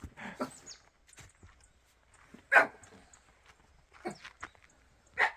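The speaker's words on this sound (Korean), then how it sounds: "얘들은 좀 친해지면 짖고 친해지면 짖고." Dogs at a rural country house give a few scattered, faint barks, heard at a distance with quiet pauses between them and no talking.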